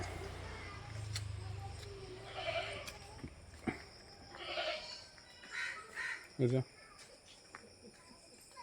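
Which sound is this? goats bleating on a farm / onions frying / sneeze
goats bleating on a farm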